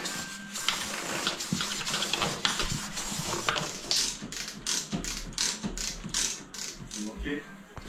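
Torque wrench ratchet tightening a screw to 55 Nm in a garage, rapid metallic clicking in quick bursts, close and fairly loud, with a steady mechanical rattle between strokes.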